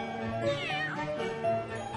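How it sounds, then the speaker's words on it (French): A cartoon mother cat hiding in a bush meows in a drawn-out, wavering tone over a soft musical background. "Oh, un chat."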